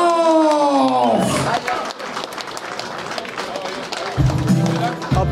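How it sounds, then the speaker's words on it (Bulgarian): An announcer's amplified voice leads into crowd noise and applause for the winner at a MAX FIGHT Championship 47 boxing event in the -67.5 kg class, with a broad roar of the hall continuing loudly under scattered shouts. "Аплодисменти за Йосиф Панов."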